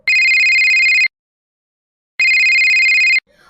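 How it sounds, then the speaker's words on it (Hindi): A telephone rings in two loud electronic bursts about a second long each, separated by a pause, with a faint rustle after. "फोन फिर बजता है"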